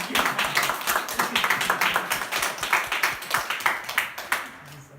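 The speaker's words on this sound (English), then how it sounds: "I want to have an applause for you." A small group claps in quick, uneven bursts for several seconds, fairly close, with faint voices mixed in before it trails off.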